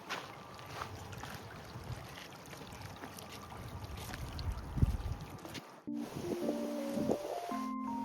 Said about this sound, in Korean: 예쁜 꽃밭도 보고 졸졸졸 흐르는 물소리도 들어봅니다.